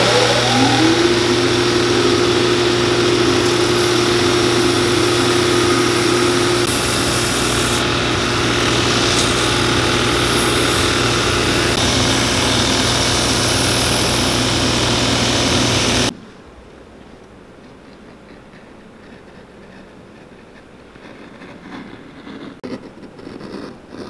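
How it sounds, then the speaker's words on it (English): A belt sander grinds against Thorogood moc toe leather boots during a restoration, a loud steady motor whine with the sanding drone running continuously for about sixteen seconds before cutting off abruptly to near silence. "we are going to get these onto the belt sander, get these sanded down"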